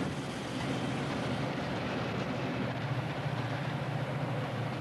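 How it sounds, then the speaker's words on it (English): The Salad Bowl Express, a long freight train on a Conrail route through the industrial Middle West, rolls past with a continuous, moderately loud rumble and rattle that holds steady throughout, with no voices. "The Salad Bowl Express rolls through the heartland of the industrial Middle West."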